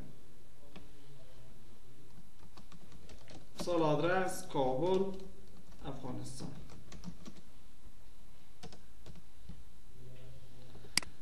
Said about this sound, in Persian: آدرس تایپ میکنم